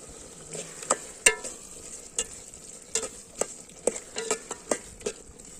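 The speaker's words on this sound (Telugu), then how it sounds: "టమాటాలు ఎర్రగడ్డలు బాగా దీంట్లో ఆయిల్లో మగ్గనివ్వాలి." Tomatoes and onions fry in oil for a snail and crab tamarind curry, a steady soft sizzle broken by a series of sharp spatula clicks and scrapes against the pan at an uneven rhythm, with no talking.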